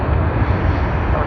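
An American Airlines jet in Flagship retro livery roars loudly and close at Sydney Airport, a dense, continuous engine rumble and rush over the brief moment.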